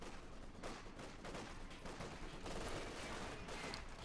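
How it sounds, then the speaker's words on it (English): Sniper and rifle fire in Company of Heroes 2, a quiet, dense crackle of shots running continuously with a few sharper reports standing out. "Shots being fired there."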